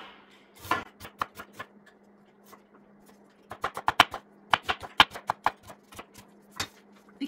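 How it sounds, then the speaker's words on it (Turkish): A knife thinly slices a halved onion on a cutting board: quick, crisp taps in short clusters, a brief lull, then a faster run of close, distinct cuts. "Yarıya kestim, şöyle ince ince doğruyorum."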